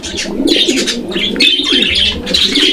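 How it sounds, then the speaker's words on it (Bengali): Pigeons and small birds at a pigeon seller's place fill the air with dense overlapping chirps and calls, loud and continuous, with low cooing beneath. "ভাইয়ের এখানে কিন্তু একদম পাখির কিচির মিচির আওয়াজ"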